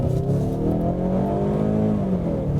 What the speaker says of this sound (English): sounds so goofy, flooring this thing and hearing that angry four-cylinder.